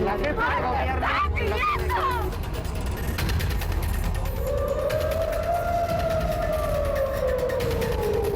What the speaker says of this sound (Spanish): El 10 de mayo sonaron las sirenas en Tel Aviv.